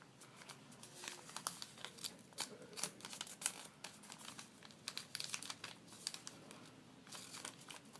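Origami paper being folded and creased for a crane, with soft crinkles and sharp crackling creases in an irregular rhythm, close and quiet.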